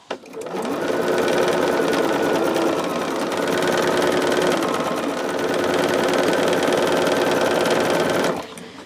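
Sewing machine stitching cotton fabric strips for a quilt, a loud steady rapid whirring hum of the needle running continuously for about eight seconds before stopping.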